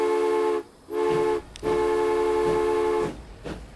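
Trains in the Transport Fever 2 simulation sound long, steady horn tones, three separate blasts with short gaps, over a low rolling rumble, then a few clanks as the horn fades.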